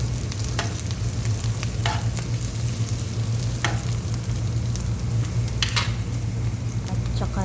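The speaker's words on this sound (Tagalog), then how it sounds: "Ayan, nagigisa na ako ng sibuyas." Onion and garlic sautéing in a pan while chicken biryani is being cooked, a steady close sizzle broken by a few brief stirring scrapes, with no talk.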